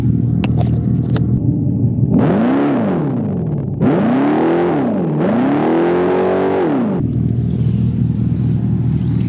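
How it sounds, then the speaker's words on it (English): A Dodge Charger Scat Pack electric car idling in normal mode gives off a loud synthetic engine-like drone, swelling and falling in three rising-and-falling pulses over a steady low hum. "So this is its idle in its normal mode."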